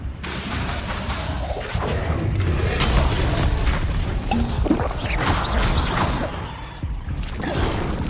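Incendio fire spell cast in the Hogwarts Legacy video game, a dense burst of whooshing flame and crackling impacts with booming thuds, loud and continuous amid other combat effects.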